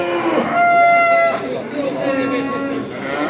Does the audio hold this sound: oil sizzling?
no